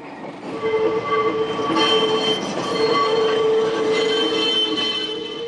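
A historic tram runs on rails on the Utrecht–Zeist line near Zeist, giving a steady close rolling rumble with sustained wheel squeal and metallic ringing throughout, with no talking.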